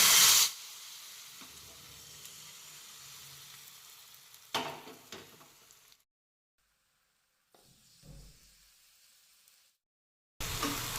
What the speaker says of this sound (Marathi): यामध्ये आपल्याला हे मिश्रण ओतून घ्यायचं आहे